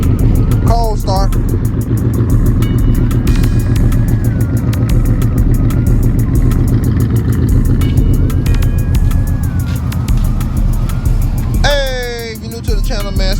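A 1975 Oldsmobile Delta 88 engine rumbling loud and steady at idle after a cold start, with a continuous deep throb and people talking over it.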